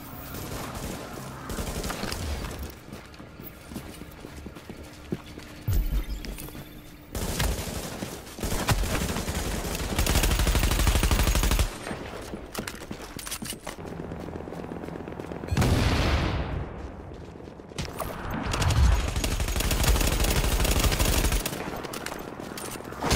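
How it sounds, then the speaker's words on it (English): Gunfire rips through a firefight in the video game The Division, with rapid bursts of automatic shots and heavy booms arriving in loud clusters separated by brief lulls, layered over an ambient game soundtrack. "Another gunshot."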